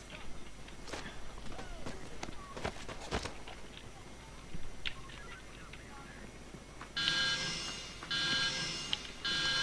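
Payday 2 heist alarm sounding in pulsing, beeping bursts during the final seconds, after a stretch of footsteps and clicks, with voices present.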